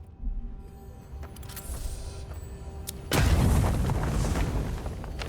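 A grenade goes off in the fantasy video game Avowed, one sudden loud, broad blast that stays roaring and rumbling for several seconds over quieter game ambience.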